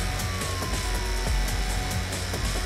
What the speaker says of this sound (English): I hear that drill going nuts.